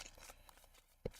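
Tarot cards shuffled by hand, a faint, soft papery riffle over about a second that ends in a brief louder tap as the deck settles.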